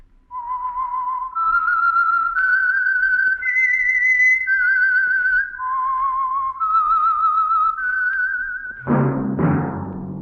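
A clear, loud whistled melody, the theme of the Signal Oil radio program The Whistler, rises and falls in sustained notes, followed by a brief burst of orchestral music at the end.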